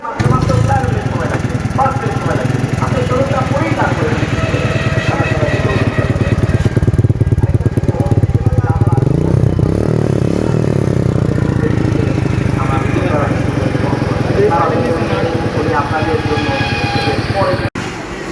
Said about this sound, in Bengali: বাইকটা স্টার্ট করার পরে বাইকের সাউন্ডটা কেমন আসে